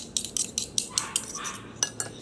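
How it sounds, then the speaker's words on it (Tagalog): A utensil stirs egg sandwich filling in a bowl, giving a quick series of light metallic clinks and scrapes in an uneven rhythm. The sounds are close and soft, with no talking. "Halu-haluin nyo lang. Hanggang maging parang liquidish."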